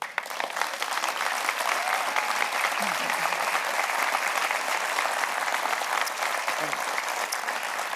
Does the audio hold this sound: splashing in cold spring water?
no